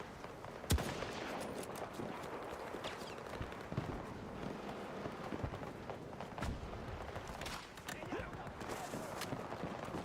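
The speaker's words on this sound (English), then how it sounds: "Who's shooting at me?" Gunfire in the video game Battlefield 6 sounds as scattered sharp shots and short bursts, some near and some distant, over a constant busy battlefield bed of running and clatter, while a player's voice talks over it at times.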